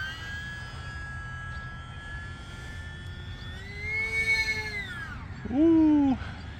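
An E-flite UMX Pitts model airplane flies on its small electric 3S motor, a thin whining drone whose pitch rises and falls as it passes, with a louder, lower-pitched swoop near the end.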